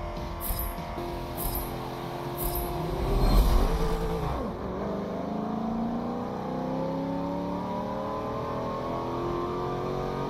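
A Subaru WRX with a supercharged engine is test driven in the video game Forza Motorsport 7, its engine revving and shifting through gears with a rising, swelling whine, loud and continuous without talk.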